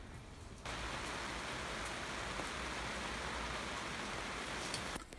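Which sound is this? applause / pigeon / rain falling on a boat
rain falling on a boat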